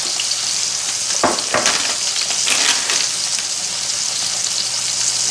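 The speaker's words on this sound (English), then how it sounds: "So we're going to just let this bacon start frying." Bacon frying in a dry frying pan without grease, a steady close hiss and crackle with a few sharper pops, loud and alone with no talk.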